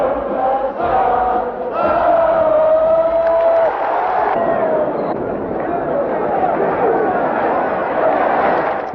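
A large crowd at the Campo Pequeno bullring cheers, whoops and applauds at a political gathering during the 25 de Abril period. The roar is loud and dense for the whole stretch, with shouting voices rising out of it.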